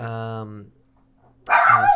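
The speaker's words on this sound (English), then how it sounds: "Oh my God, my dogs are going nuts now." Several pet dogs going wild indoors: a drawn-out, whining bark, a short pause, then a loud, close burst of excited barking.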